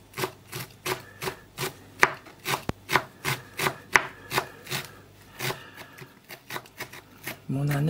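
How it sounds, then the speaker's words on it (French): A knife finely minces fresh dill on a cutting board in quick, even chops, around twenty crisp close taps in a steady rhythm, with no talk over them. "je prends l'aneth et je vais l'émincer comme ça, assez fin"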